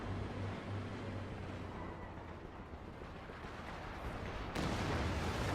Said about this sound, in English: Pack Howitzer barrage, apparently it's at Vet 2